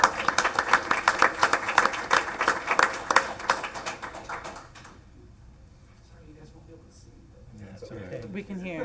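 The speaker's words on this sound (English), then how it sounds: "And please give Antonio a round of applause." Audience applause at a board meeting after a musical performance, a burst of clapping for about four seconds that fades into quiet room noise with faint speech.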